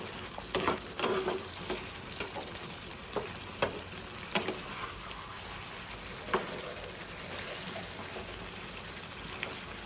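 Fish in a spicy coriander curry masala simmering in a pan, a soft steady sizzle and bubble with occasional spoon scrapes and clicks, quiet and close.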